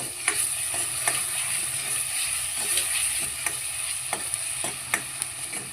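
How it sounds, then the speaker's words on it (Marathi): Garlic paste, onion and ginger paste with asafoetida sautéing in a pan for a boiled chickpea curry, a steady close sizzle broken by regular light scraping taps of a spoon stirring. "लसूण पेस्ट घातली. आत्ताच मी त्यात लगेच हिंग घालते. हा बारका चमचा हिंग. हे सगळं मी परतून घेते."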